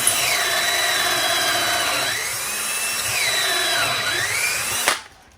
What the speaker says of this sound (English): for this purpose I'm just going to do a quick drill.